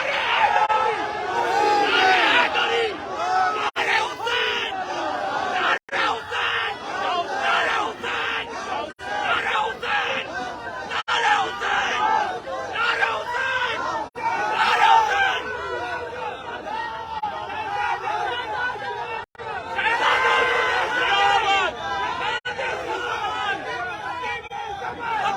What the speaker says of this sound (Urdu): سرکار کا استقبال آپ کے نعرے سے ہوگا، نعرہ لگانا یہاں سے آپ کا کام۔